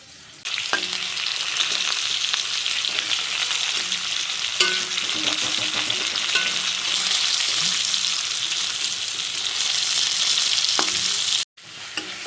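Pointed gourd (potol) frying in hot oil gives a steady, close sizzle throughout, with scattered stirring clicks and scrapes, briefly cut off near the end before resuming.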